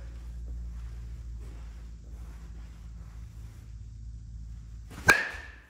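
A red and green USSSA baseball bat strikes a ball once near the end with a single sharp, ringing metallic ping that decays quickly, loud and close after quiet background.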